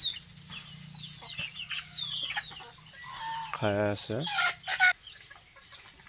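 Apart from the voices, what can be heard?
chickens clucking outdoors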